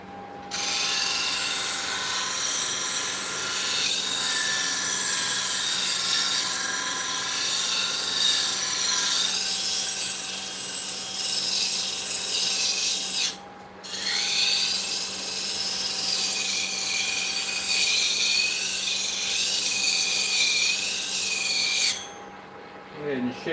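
A spindle detail gouge is ground on a sharpening wheel, giving a steady high whine and hiss that runs almost without a break, with two short pauses.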